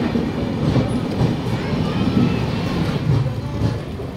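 Patna–Howrah Jan Shatabdi Express rolling into Asansol Junction, a continuous rumble and clatter of carriages with soft rhythmic wheel thumps, heard from on board.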